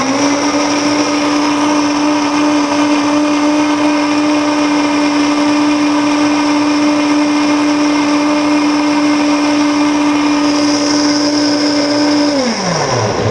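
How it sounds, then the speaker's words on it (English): A blender running on its low setting whirs a juice of garlic, ginger, oil and stevia, its motor droning loud and steady for about twelve seconds before winding down. "let me get my blender lid and we'll blend it up. Put it on low, turn it on."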